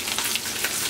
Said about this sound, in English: while it's frying in there